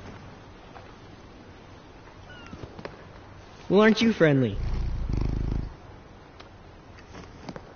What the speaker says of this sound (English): Oh, nice kitty.